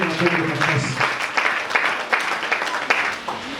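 A church congregation applauds at a Sunday service, a dense patter of many hands clapping in a reverberant room, with rhythmic accents suggesting some people clap in time, and a few voices mixed in.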